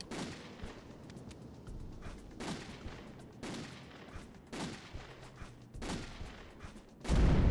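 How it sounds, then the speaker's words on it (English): Gunshots from a handgun in Castlevania: Legacy of Darkness, fired as a series of about six loud, evenly spaced single cracks, each with a short booming tail. "how many games can you just fire guns like this?"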